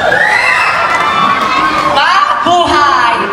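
A pageant crowd at Miss Gay Urbiztondo 2024 cheers and shouts, with high, wavering voices whooping and screaming over a constant roar of noise, swelling again near the end.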